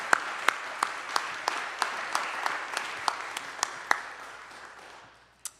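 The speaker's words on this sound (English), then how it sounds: "Let's give her, Zuly, another round of applause." An audience applauds in a steady, rhythmic clap that slowly fades out over several seconds.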